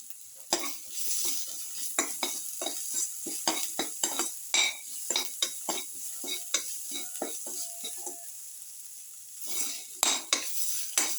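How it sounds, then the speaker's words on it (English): Salted beetroot, potato and yogurt being stirred and mixed in a bowl for a casserole or raita, giving a close, steady run of wet scraping and clinking utensil strokes with brief pauses, no talking. "Thoroughly salt and mix."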